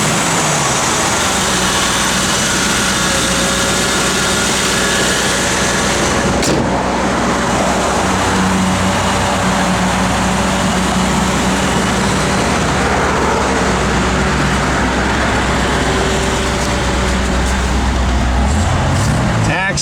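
A stock big-block 1968 Chevrolet Camaro RS/SS running on pump gas drones steadily for a long stretch, a continuous broad roar with road-like noise, and voices can be heard over it.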